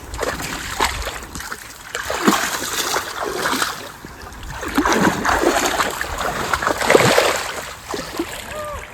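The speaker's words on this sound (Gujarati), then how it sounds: "એમાં બધી ભેંસો મજા લે છે." Buffaloes wallow in a water-filled pit in a field near wooded country, sloshing and splashing in uneven surges, with distant voices faintly beneath.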